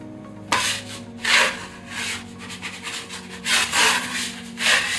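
A dough scraper scraping and lifting gluten-free pie dough off a work surface, several short rasping strokes in uneven bursts, close and fairly loud, with no talking.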